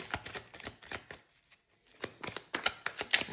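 Tarot cards are shuffled by hand in quick, close riffling bursts, with a short quiet pause in the middle before the flicking starts again.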